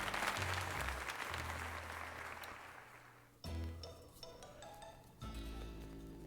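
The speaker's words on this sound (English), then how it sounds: "let us give another heartfelt round of applause to Quill." A short burst of applause in the video game Pokemon Legends Z-A that thins out quickly, followed by faint chimes and soft musical tones with no talking.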